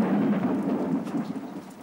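Storm with steady rain and low thunder rumbling near a tavern on a stormy night in 1980s Czech film adaptation of Dickens; continuous dense wash of rainfall, no voices.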